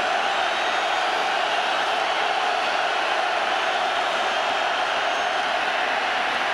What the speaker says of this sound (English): Crowd trying to help.